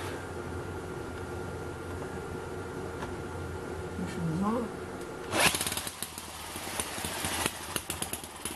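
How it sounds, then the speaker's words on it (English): An electric drill spins up and cranks a small Eachine ET8 horizontal four-stroke model engine, a sudden buzzing burst that gives way to rapid ticking and popping over a steady background hum, up close. "Okay, let's try it with an electric drill."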